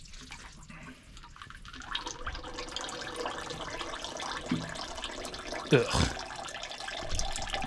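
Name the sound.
hydraulic oil dripping from old bulldozer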